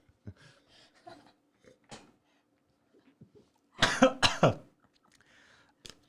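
A burst of harsh, loud coughing comes in a few rapid hacks mid-clip, with quieter scattered sounds and faint voices before and after.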